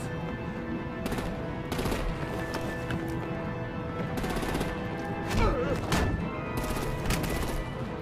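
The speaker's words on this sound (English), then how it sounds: "Bring out the artillery and disable their vehicles!" Gunfire crackles in Batman: The Enemy Within, with bursts of rapid shots in several clusters over a busy action soundscape of clattering and rumbling, no speech heard.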